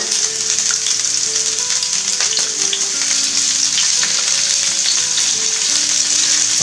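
Bell peppers frying in a pan, giving a steady, close, loud sizzle with light stirring noises throughout and no talking.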